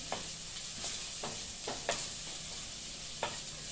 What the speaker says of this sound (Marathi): आलं लसूण पेस्ट कच्चा वास जाईपर्यंत आपल्याला परतायची.